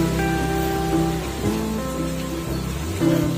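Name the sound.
rain falling in a bonsai garden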